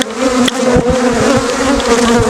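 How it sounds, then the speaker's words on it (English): Honeybees swarm around an opened hive during a spring split, a dense, loud, close buzzing drone that holds steady throughout with no voices. "Smoke the bees down here."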